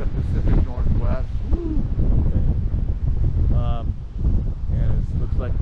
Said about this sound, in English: the wind is starting to blow